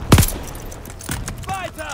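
Gunfire from Call of Duty: Vanguard, set at the Battle of El Alamein: a loud close burst at the start, then scattered lighter shots, with a voice speaking over the end.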